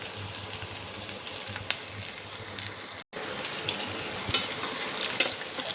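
Ginger and lightly crushed garlic fry in oil, a soft continuous sizzle with occasional light stirring taps and a brief dropout midway; fairly quiet and close, without speech.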